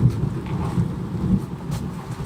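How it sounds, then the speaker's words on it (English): Deep rolling thunder from a windy storm in the African bush, a steady low rumble lasting throughout and heavily mixed with gusting wind buffeting the microphone. "did you hear that? The thunder's here."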